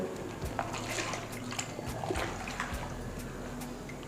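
Liquid detergent is mixed with acid slurry in a container at home, giving a steady watery sloshing and trickling with small drips, close and fairly loud, over a low continuous hum.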